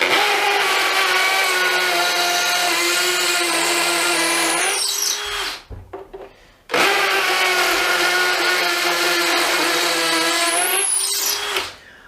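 A DeWalt Atomic DCD709 cordless combi drill bores with an 8mm bit, two loud whining bursts of about five seconds each with pitch rising near the end of each, separated by a short pause.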